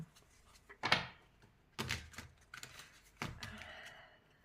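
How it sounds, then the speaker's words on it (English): A deck of crystal oracle cards is shuffled, with a few separate riffling bursts and card slaps spaced across the stretch, close and fairly quiet, with no talk over them. "it takes me a while to shuffle them because they're a little hard for me to shuffle these cards"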